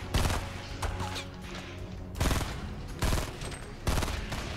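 Gunfire rings out in the Fortnite battle royale video game near a bridge: several loud, sharp bursts of shots, including shotgun blasts, land in quick succession with brief pauses between them.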